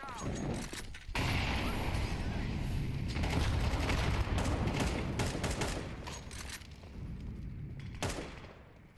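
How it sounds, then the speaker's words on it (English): Video game firefight with a grenade blast: dense, continuous gunfire and broadband bursts fill most of the stretch, loud and close, with voices talking over the combat. "Grenade out."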